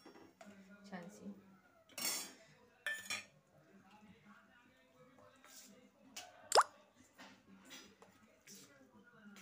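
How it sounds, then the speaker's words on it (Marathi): Metal cookware for making appe clinks and knocks as it is set on a stove to heat, a few sharp clatters and plops over quiet kitchen background while someone talks. "भांडं तपायला ठेवते मी"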